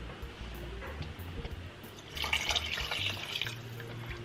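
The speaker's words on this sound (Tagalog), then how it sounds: "Lalagyan pa natin ng kaunting tubig kasi medyo mababaw pa yan." Water poured from a tap into a cooking pot to cover meat, a steady trickling and splashing that grows fuller midway, heard alone in a home kitchen.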